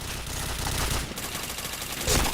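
Sustained automatic weapon fire in a shooter game, a dense, noisy barrage of shots running throughout, loud and close, ending with a heavier burst, no voices audible over it.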